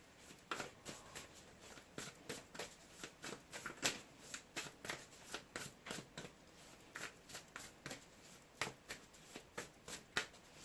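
Tarot cards are shuffled by hand for a reading, a steady run of soft, crisp riffling flicks repeating in quick bursts throughout, close and quiet with no voices.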